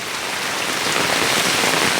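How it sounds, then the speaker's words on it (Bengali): Heavy rain pours down in a dense, constant roar of drops hitting surfaces, loud and close, with no voices. "দেখি প্রচণ্ড বৃষ্টি হচ্ছে আসলে"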